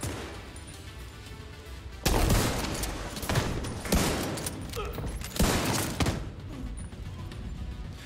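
Bursts of gunfire in The Division 2 with sharp cracking shots and headshot impacts, several loud volleys over a constant background rumble.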